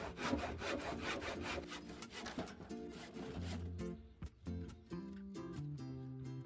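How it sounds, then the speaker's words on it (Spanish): A hand saw cuts wood for greenhouse roof trusses: steady, rhythmic back-and-forth strokes, quick at first and then slower and more spaced out, close by with no talking. "aquí voy a tener que continuar con serrucho a mano"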